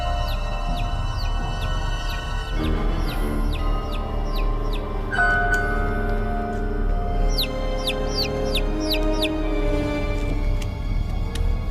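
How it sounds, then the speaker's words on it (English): Chicks chirping incessantly in a yard during a horror film scene. Rapid, repeated high peeps and some clucking sit over a steady low hum, and no voices are heard. "he heard the incessant chirping of chicks from the direction of the yard"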